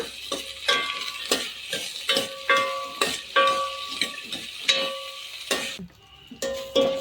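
Turkey berries and onions sautéing in a pan over medium flame, with repeated scraping stir strokes against the pan and a faint steady sizzle underneath, close and fairly loud.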